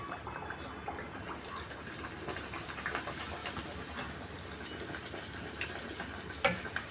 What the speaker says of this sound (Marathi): आता आपण पुऱ्या बनवून घेतल्या त्या फ्राय करायला घेऊया